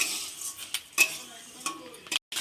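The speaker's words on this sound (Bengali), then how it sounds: "চালটা ভালো করে ভেজে নিতে হবে" Raw rice frying in a pan for a jaggery sweet, stirred with a utensil that scrapes and clinks against the metal in a few sharp, irregular strokes, close and fairly quiet.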